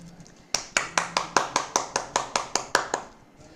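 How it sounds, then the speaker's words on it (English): Hands clap at a Toastmasters club meeting, about a dozen sharp, evenly spaced claps in a steady rhythm, close and distinct with quiet room tone before and after, like one or a few people clapping rather than a full crowd. "I think these two do deserve an applause,"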